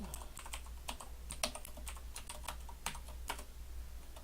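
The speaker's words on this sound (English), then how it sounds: "Now let's see if we can type some Python." Python code being typed on a computer keyboard in a text editor, a quick irregular run of crisp, close key clicks with brief pauses, over a steady low hum and with no talking.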